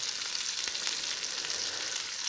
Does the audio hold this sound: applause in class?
no